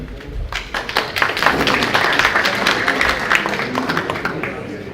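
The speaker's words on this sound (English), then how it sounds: "So let's give our applause to Mr. Zimmerowicz." An audience applauds, many hands clapping in a dense patter that swells and holds steady, with some voices mixed in.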